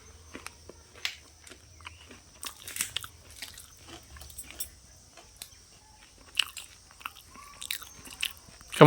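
Puffed rice (muri) mixed with boiled potato is chewed up close, with irregular crisp crunches and bites scattered through a quiet background.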